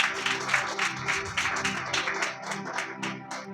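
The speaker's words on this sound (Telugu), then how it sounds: "గట్టిగా చప్పట్లు కొట్టు" A church congregation claps loudly and steadily in a dense, rhythmic burst of applause that fills the hall, with no speech over it.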